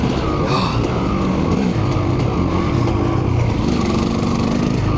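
A KTM 200EXC two-stroke dirt bike riding in the bush, its engine buzzing loud and close at a steady high rev for the whole stretch, with no voices.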